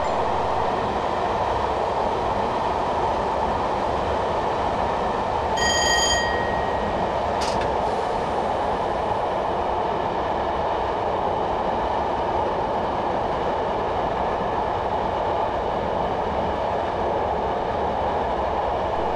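A Class 421 electric passenger train in Train Simulator 2015 runs steadily on the Brighton to London Victoria route, with a constant rumbling roar and a brief high whistle-like tone mid-run.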